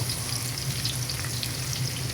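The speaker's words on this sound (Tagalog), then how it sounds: "Then gigisa natin, lagyan natin ng bawang." Garlic and onion leeks sauté in an oiled pan with a steady, dense, close sizzle that holds evenly throughout, with no voices.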